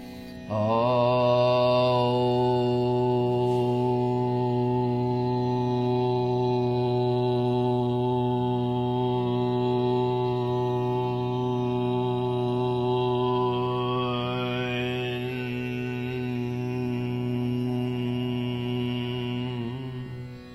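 A single deep voice chants a long, steady Om, the vowel slowly closing into a humming resonance that holds for many seconds before stopping.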